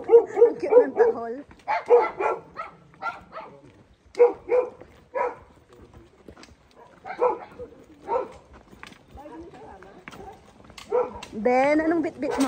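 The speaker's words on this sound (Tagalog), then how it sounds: "Ang cute ng tahol." Several dogs bark and yip in short bursts during a mountain hike on Mt Kupapey, close by, mixed with people chatting and exclaiming over them.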